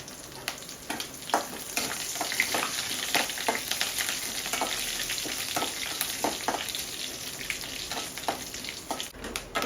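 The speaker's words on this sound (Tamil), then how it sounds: "ஒரு அஞ்சு பல்லு பூண்டு கொஞ்சம் பொன்னிறமாக வதங்கட்டும் கொஞ்சம் கருவேப்பிலை போட்டுக்கலாம்" Garlic cloves and curry leaves sauté in hot oil in a pan for a spinach thokku, giving a steady close sizzle with frequent scraping stir clicks throughout, no talking.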